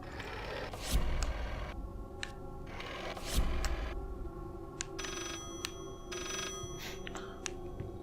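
A telephone rings inside the horror game Layers of Fear, with two louder bursts near one and three and a half seconds. Sharp, clattery tones and mechanical clicks recur over a dense, steady eerie backdrop, and no one speaks.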